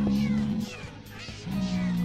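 Cats meowing in Minecraft, a few drawn-out video game mews in quick succession, fairly clear and close, with a faint voice underneath.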